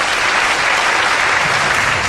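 A crowd at a formal gathering gives a loud, dense burst of applause for a jury member being introduced, the clapping steady and unbroken throughout.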